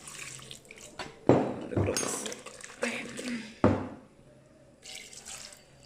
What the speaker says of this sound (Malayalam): നമുക്ക് ഒരു ഗ്ലാസ് വെള്ളം ചേർക്കുന്നുണ്ട്